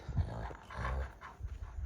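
Two lead Kangal dogs pant and growl low while sizing each other up; short rough bursts of breath and rumbling growls come in a few loud, close pulses.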